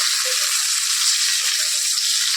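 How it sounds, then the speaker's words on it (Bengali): Pointed gourd (potol) slices frying in oil in a home kitchen pan, giving a steady, even sizzle and crackle throughout with faint stirring or rattling sounds, close and continuous, with no speech. "এখন পটল ভাজা হচ্ছে এই দেখো পটলটা ভেজে নিচ্ছি"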